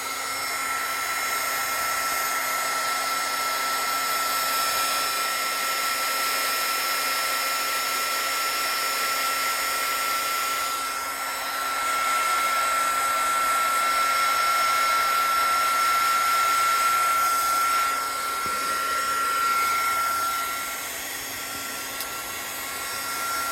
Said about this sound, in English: let me use the heat gun. You might want to hold your ears.